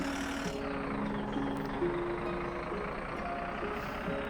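Steady electronic reversing beeps over a low diesel rumble as a coach bus backs up to turn around in URO coach bus simulator, a continuous loud drone throughout.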